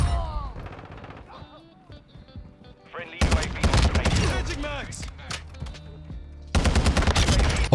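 SCAR-H rifle fire in Call of Duty Modern Warfare 2, with loud, close rapid bursts of shots in two clusters and someone talking over the quieter stretch before them.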